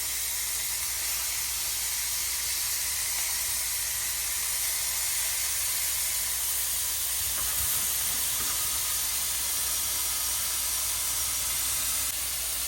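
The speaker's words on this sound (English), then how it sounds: "Our oil should be getting warm. Yep, start to sizzle already." Oil heating in a pan for eggplant dressing gives a steady, fairly loud broadband hiss and sizzle that lasts throughout, with a faint low rumble underneath and no talking.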